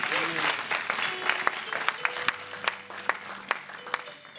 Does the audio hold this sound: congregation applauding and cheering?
yes